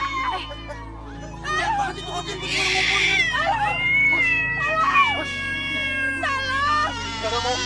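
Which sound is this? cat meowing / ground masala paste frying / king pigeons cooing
cat meowing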